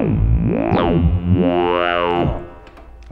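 A Yamaha Reface DX synthesizer plays a sustained tone with effects added, sweeping its formants up and down in smooth vowel-like glides over about two and a half seconds before fading, with no talking.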